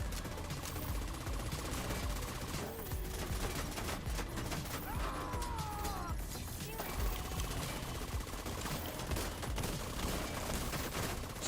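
Rapid bursts of automatic gunfire crackle through a firefight in The Division 2, dense and continuous, with overlapping shots and impacts filling the whole stretch.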